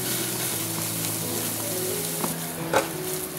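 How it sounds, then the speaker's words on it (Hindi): Carrots roasting in a pan, a loud steady sizzle with spoon scrapes as they are stirred continuously, and a sharper clack near the end. "तब तक हमें गाजर को रोस्ट करना है। तो कंटिन्यूसली चलाते हुए हम पकाएंगे।"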